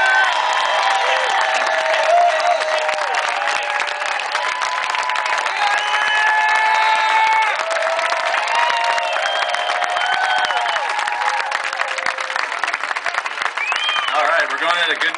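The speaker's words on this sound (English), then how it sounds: "Give yourselves a big hand" A large outdoor political rally crowd in Texas cheers, whoops and applauds loudly and continuously, with scattered shouts above the steady clapping.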